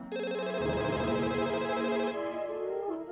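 A telephone bell rings loudly and continuously for about two seconds, a steady repeating electronic trill, then cuts off into a brief fading tail with no talk.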